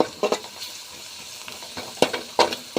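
Ginger garlic paste fries in a pan for tomato thokku, a steady close sizzle with repeated scraping stirs that come in short uneven bursts.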